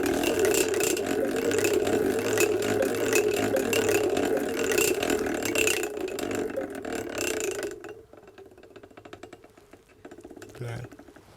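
A mechanical bonus wheel from Olympic Fascination in Wildwood spins with a steady dense ratcheting clatter of gears and pawl, then slows into sparser ticks toward the end.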